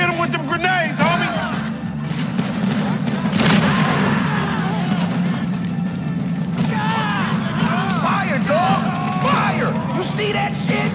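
Gunfire and grenade blasts from a GTA V shootout, with a dense, continuous roar of shots and explosions under loud, excited shouting voices throughout.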